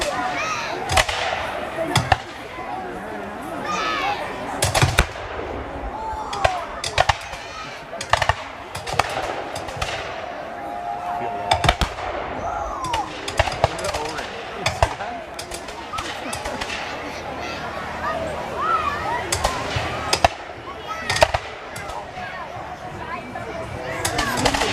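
Musket volleys crack out at a black powder battle re-enactment of the Battle of Stoney Creek, sharp loud reports scattered irregularly throughout, some in close groups, with a voice talking beneath.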